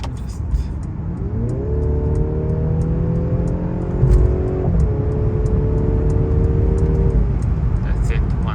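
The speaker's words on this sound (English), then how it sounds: "I will put the car to Sport Plus so that you have the artificial sound as well from the speakers when we accelerate" Mercedes C-Class accelerating in Sport Plus mode with artificial engine sound played through the speakers, a rising engine tone with a gear change partway through, heard from inside the cabin over steady road noise, moderately loud.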